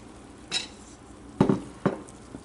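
Broccoli soup with goat Colby cheese is stirred in a pot, giving three short clinks and scrapes of a utensil against the pot's side, close and fairly quiet, with no talking.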